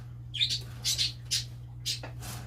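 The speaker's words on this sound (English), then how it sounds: "Are you gonna tweet every time I talk now, Magenta?" Pet parrots let out several bright squawks and chirps in quick, uneven bursts, close and fairly loud over a low steady hum.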